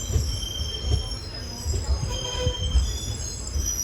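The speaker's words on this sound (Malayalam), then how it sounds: "ട്രെയിൻ ഇപ്പോൾ വേളി റെയിൽവേ സ്റ്റേഷനിലെത്തിയേ" Passenger train on the Kollam to Thiruvananthapuram line pulling into Veli railway station, with low rumbling, rhythmic wheel thumps and a faint high squeal of wheels on rails, steady and close throughout.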